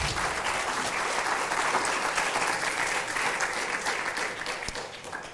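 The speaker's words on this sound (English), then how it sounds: "that's worthy of applause right there" Audience applause during a live book interview, a brisk burst of many hands clapping that starts at full strength and fades slightly toward the end.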